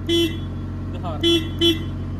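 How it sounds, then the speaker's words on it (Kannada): A Hitachi excavator's horn sounds three times, one short beep and then two more in quick succession, loud and close over a steady engine drone, with a brief voice between the honks. "ಹಾರ್ನ್."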